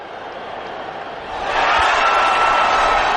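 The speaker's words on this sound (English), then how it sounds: "And you hear the crowd roaring as Gojo takes to the ice" A large arena crowd at a skating event roars as a skater takes the ice, starting as a broad murmur and then swelling into a loud, sustained cheer partway through.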